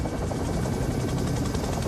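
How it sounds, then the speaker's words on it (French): A helicopter in a French police drama, a steady, loud, close rotor and engine roar that fills the whole stretch without pause, with no voices over it. "On y va tout de suite en hélico."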